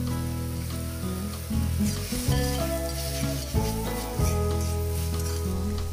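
A stir-fry being tossed and mixed in a pan with soy sauce, ketchup and chili sauce, giving a loud, continuous sizzle close up with repeated stirring scrapes and a low humming hob, and no talking.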